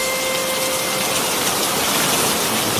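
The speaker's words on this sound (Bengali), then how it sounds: "নাহ, এ বৃষ্টি থামার মতন বৃষ্টি নয়" Heavy cartoon rain pours in a dense, loud, continuous hiss that fills the whole stretch without a break.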